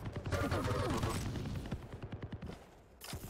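Starting machine gun in the arena shooter Quake Champions rattling off a rapid burst of close shots, dense and loud at first, then thinning into a quicker staccato string of separate reports.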